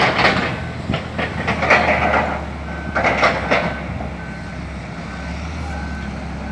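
Repeated reversing beeps from a semi truck at an RV resort sound over heavy engine rumble and clanking, fairly close and steady.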